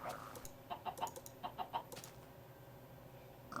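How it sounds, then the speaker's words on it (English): Chickens in the Minecraft video game give a series of short, faint clucks in quick bursts through the first two seconds, then fall quiet apart from a last cluck at the end. "Yeah, these chickens are ready for some loving."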